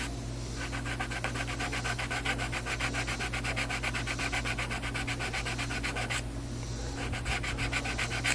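Sandpaper rubs rapidly back and forth over the frets of an Ibanez RG470 guitar being scalloped, a close, steady scratchy rasp in quick strokes with one short pause near the end.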